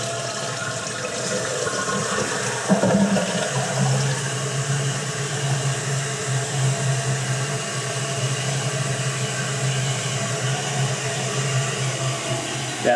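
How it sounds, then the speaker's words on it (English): A toilet test flush after a flapper valve rebuild, water rushing steadily into the bowl and tank for the whole stretch with a low hum underneath, fairly close and unbroken, with no talk. "So now for a test flush to see if any water leaks out between the tank"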